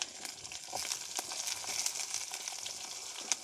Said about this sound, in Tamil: சின்ன வெங்காயத்தை போட்டுக்கொள்கிறோம்.